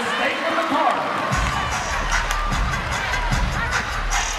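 A basketball arena crowd cheers during a women's college game between Ohio State and Louisville: a steady, full wash of roaring voices under a low rumble, loud and continuous for several seconds, with commentary voices mixed in.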